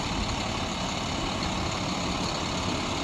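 A 2010 International 7400 tandem VACCON hydro excavator truck, with a front flusher, a big fan blower and a Deutz power pack, idles with a steady low, broad engine rumble and no talking.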